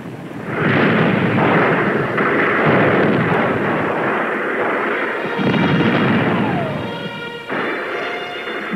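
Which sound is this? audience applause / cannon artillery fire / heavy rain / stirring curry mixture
cannon artillery fire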